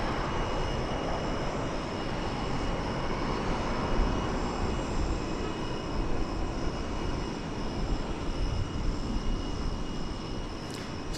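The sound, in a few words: Boeing 777 airliner jet engines at DFW Airport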